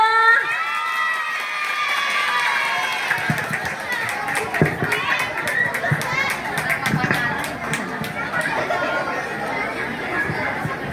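A school audience of children cheers and claps for a pupil contestant at a poetry-reading competition, a steady roar of crowd chatter and shouting with scattered hand claps through most of it.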